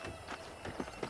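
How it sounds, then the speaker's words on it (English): Horse hooves clip-clop in Red Dead Redemption, a handful of distinct, evenly spaced hoofbeats at moderate volume over a quiet game-ambience bed, with no talk. "I picked out a fine horse for you."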